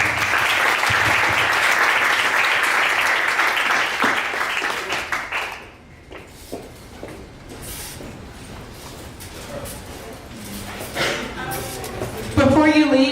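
An audience at a Dallas startup pitch event breaks into loud, sustained applause that fades after a few seconds, followed by quieter room noise, a few scattered claps and a short burst of clapping near the end.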